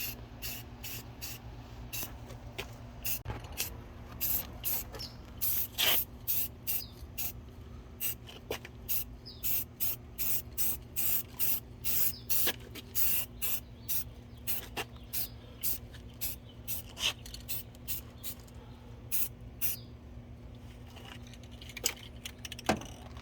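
A spray can lays a coat of paint on the grill of a 2006 Ford Explorer in short, repeated hissing bursts of about a second each, close and fairly loud, running steadily over a constant low hum.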